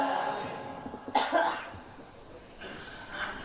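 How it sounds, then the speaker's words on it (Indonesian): A single cough rings out fairly close, followed a moment later by a softer second cough, with quiet room noise in between. "Mau batuk terus dari tadi."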